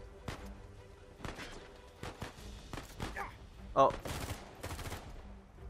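Gunfire in Uncharted 4 crackles in scattered bursts of sharp shots, some near and loud, others more distant, with a brief spoken exclamation and a gasp among them.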